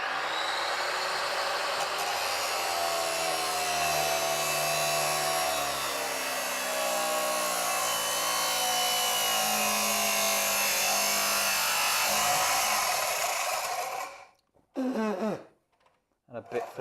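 A Dremel rotary tool cuts into iron soil pipe with a loud, continuous high-pitched grinding whine that shifts in pitch for about fourteen seconds, then stops, leaving brief talk.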